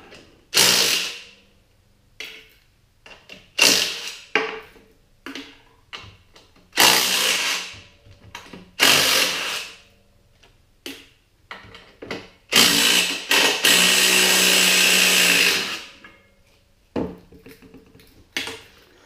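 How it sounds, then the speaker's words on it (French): A power tool whirs in short bursts while removing the skid plate from a 1994 Kodiak 400 ATV, with clanks of metal parts between the runs and one longer steady burst near the end. "On va commencer par enlever la skid plate."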